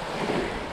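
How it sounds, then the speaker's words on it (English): Wind buffets a microphone outdoors near water, making a loud, steady rumbling roar with no voices, lasting under a second. "wind."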